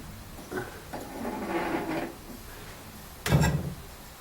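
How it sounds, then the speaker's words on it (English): Knives being slid into positions in a metal rack, a couple of soft scraping handling sounds followed by one louder clattering clank near the end, close and quiet with no talk. "So let's put the knives back in again."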